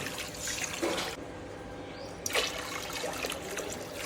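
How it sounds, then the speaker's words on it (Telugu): Water mixed with chicken broth is poured into rice in a pot for Andhra-style bagara rice, making a close gurgling trickle in two bursts separated by a short pause. "ఈ వాటర్ ఇప్పుడు ఇందులో వేసేద్దాము."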